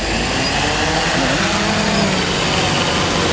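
A DJI Phantom 1 quadcopter drone with brushless motors flies close by, its propellers producing a steady, loud, high-pitched whine and buzz that holds without a break.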